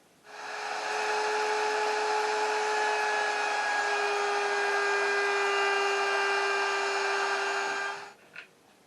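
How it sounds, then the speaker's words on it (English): A router fitted with a pattern cutting bit runs steadily, loud and close, whining while it cuts a slot in acoustic guitar wood guided by a pattern on spacer blocks, then winds down near the end with a small knock. "I'm going to cut this slot with a pattern cutting bit"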